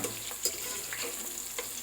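Onions and green chillies frying in a pan for moong dal khichdi: a low, steady sizzle throughout, with a few brief clinks and stirring sounds on top, and no talking.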